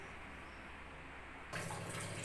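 Water is poured into a cooker holding lentils and chopped snake gourd. The faint pouring and splashing begin abruptly partway through after a quiet kitchen background.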